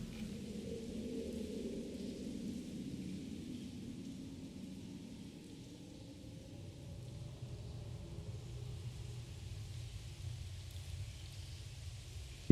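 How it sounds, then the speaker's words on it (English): Rain in the video game Myst V: End of Ages, a steady low wash of falling rain with a deep rumbling undertone, even throughout. "You can see the rain."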